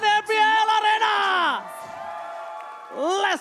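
An esports arena crowd at an MPL Mobile Legends match between Bigetron and Geek cheers, whoops and yells loudly in bursts, then fades to a lower murmur before another swell of shouts.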